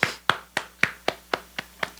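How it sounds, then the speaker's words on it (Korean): A church congregation at a Friday worship service claps in thanks, about eight sharp, evenly spaced claps in a steady rhythm, fairly close and clear with no talking. "우리 하나님께 감사의 박수 올리겠습니다."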